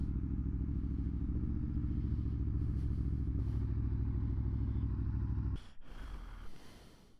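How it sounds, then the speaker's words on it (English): An Aprilia Tuono motorcycle ridden on a quick ride gives a steady low engine drone for several seconds, then a sudden cut to rushing wind and a fading rumble. "I'm currently riding, I don't know what year, but it's Aprilia Tuono"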